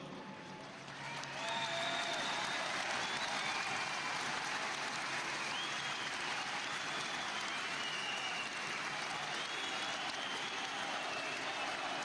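A large audience applauds at a tribute ceremony, dense sustained clapping that swells after the first second and holds steady, fairly loud and without speech.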